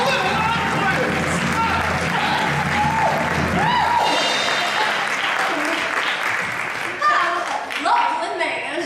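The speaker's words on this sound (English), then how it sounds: "I will now exit dramatically into large amounts of applause." A theatre audience applauds at a community revue that parodies a late-night talk show, with loud, sustained clapping and crowd noise across the whole stretch and voices mixed into the din.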